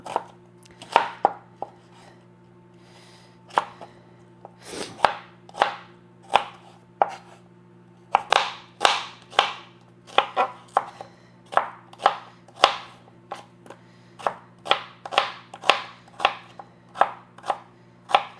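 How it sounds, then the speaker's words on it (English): A knife thinly slicing onions on a cutting board, with a long run of crisp, evenly paced chops, close and clear, broken by a few short pauses, under a faint steady hum. "I'm just going to thinly slice these onions"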